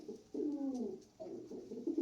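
Pigeons kept for sale coo in two soft, rolling bursts, close by and fairly quiet, with no voices over them.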